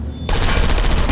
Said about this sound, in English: The turrets are shooting the servers!